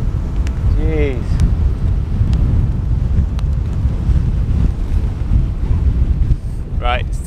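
Strong wind buffets the microphone in a steady roar on a beach as a storm approaches, with surf rumbling underneath; brief voice fragments rise near the start and end.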